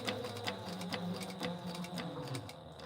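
A sewing machine back stitching bag straps on a Mini Scout bag, a quiet, fast rhythmic mechanical whirr and needle clatter running steadily, close by.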